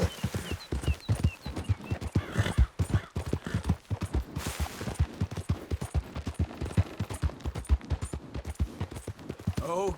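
Horse hooves in Red Dead Redemption 2 beat in a steady, rapid clopping rhythm for ten seconds, loud and close, with a brief whinny near the end.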